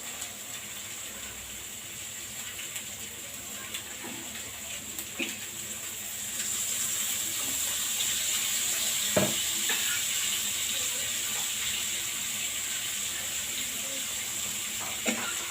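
A pot of lake fish curry bubbles and sizzles steadily on the stove, a continuous close hiss that grows slightly louder partway through, with no talk.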